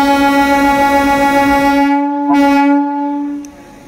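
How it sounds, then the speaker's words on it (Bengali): A Howrah local train pulls out of a station near Kolkata, sounding a sustained, loud horn note over rumbling wheel and engine noise. The horn drops and fades near the end. "আর দেখতে পাচ্ছেন একের পর এক স্টেশনে একের পর ট্রেন রওনা দিচ্ছে আপ এবং ডাউন। এটা হাওড়া লোকাল।"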